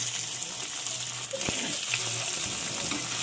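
Onion pieces tipped into hot oil already holding fried dried red chillies, a steady broadband sizzle with a few stirring knocks and scrapes, close and fairly loud without speech.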